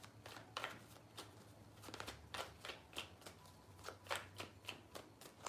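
Tarot cards are shuffled by hand in a quiet room, a series of soft, rhythmic riffling bursts repeating roughly every half second, faint and close.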